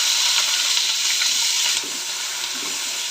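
Chopped garlic, onion, tomato and capsicum frying together in hot oil: a steady, loud, close sizzle that eases slightly partway through.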